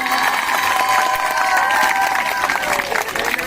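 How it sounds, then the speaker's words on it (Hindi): A crowd applauds the Nehru team at a school camp's closing ceremony after a chair race, a dense, steady wash of clapping and crowd noise running throughout, with voices and tonal sounds mixed in. "और जोरदार तालियां नेहरू दल के लिए बजाएं।"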